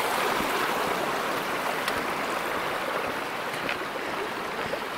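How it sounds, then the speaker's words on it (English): A mountain stream flowing across a hiking trail in the Cascades, steady close rushing water with constant broadband splashing and no voices. "Crossed lots of these streams coming down the mountain"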